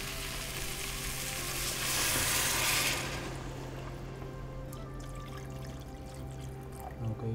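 Pork stock is poured into a pot for sinigang with taro and lagikway, a loud rushing, sizzling pour for the first three seconds that settles into a quieter bubbling simmer with a low steady hum.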